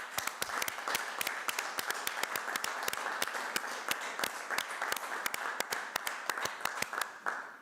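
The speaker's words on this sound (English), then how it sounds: "I would like our council to give her a particular round of applause" Applause at a Burnside council meeting, a dense stretch of many hands clapping steadily without pause, fairly loud and close, with no voices over it.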